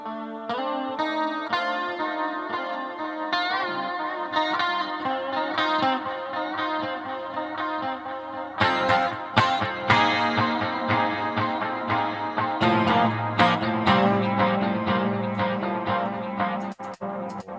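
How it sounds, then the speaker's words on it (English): Electric guitar played through a Moore Ocean Machine reverb and echo pedal, a three-in-one unit with reverb and two echoes: layered chords and notes with long washing repeats, steady and loud, growing denser and more distorted partway through. "It's a reverb and 2 echo machines"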